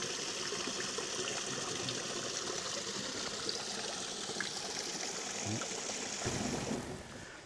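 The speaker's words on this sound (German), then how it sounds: "dem kleinen Wasserfall" A small waterfall in a rocky gorge with large boulders, a constant loud rushing and splashing roar heard from close by that fades slightly at the very end.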